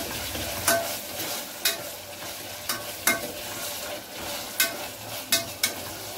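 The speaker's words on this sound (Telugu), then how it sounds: "అదే వేగుతుంది." Ginger garlic paste fries in a pan with a continuous close sizzle, broken by sharp scraping strokes of a spatula at irregular intervals every second or so.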